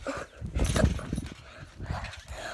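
A nearby dog makes short, rough vocal sounds in a couple of bursts, with some background clatter.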